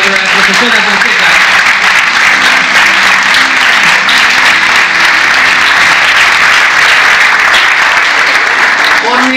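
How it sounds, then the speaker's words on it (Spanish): Graduation ceremony audience giving sustained, loud applause for a teacher receiving a diploma, continuous clapping throughout with some voices mixed in. "Un aplauso para la profesora Fonseca"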